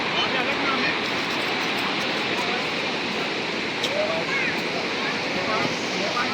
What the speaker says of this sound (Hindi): आपको आवाज़ भी सुनाई दे रही होगी नदी की